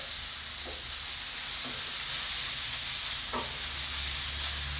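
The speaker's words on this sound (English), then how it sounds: "I've turned the heat back up, I'm just going to brown them off a little bit on each side" Lamb steak pieces sizzle as they brown in a hot pan, a steady close hiss of frying broken by a few brief clinks and scrapes, with no talking.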